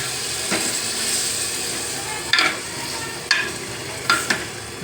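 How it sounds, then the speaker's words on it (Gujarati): Sizzling potato curry in a pressure cooker hisses steadily while a spoon scrapes and stirs, with several sharp metallic clacks and bursts of sizzle as water is added. "હવે આપણે અડધો ગ્લાસ પાણી નાખીએ."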